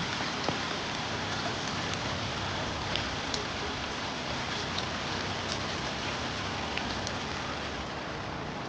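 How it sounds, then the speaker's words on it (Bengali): Light drizzle falls outside a window as an even, close rain hiss with faint scattered drop ticks. The sound is steady throughout and no one talks. "আজকে সারাটা দিন গুড়ি বৃষ্টি একদম বিরক্তিকর একটা পরিবেশ"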